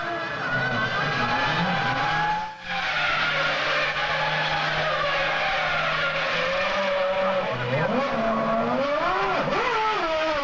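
A Formula 1 car races past at the 2000 German Grand Prix, its high-pitched engine whining and shifting pitch loudly and steadily throughout, with a brief dip midway as a Ferrari prepares for a pit stop.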